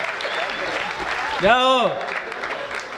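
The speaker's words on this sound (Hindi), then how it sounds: "थोड़ा तालियों का और उत्सव करिए।" An audience at a Hindi-language gathering applauds continuously, with steady dense clapping throughout; a person speaks over it and a rising-falling whoop-like vocal sweep cuts through the middle.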